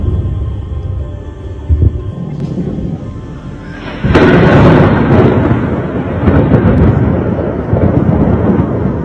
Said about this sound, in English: You can see some of those explosions, those yellow flashes of light.